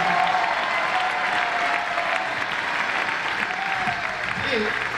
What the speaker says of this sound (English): let's applaud together because everyone are happy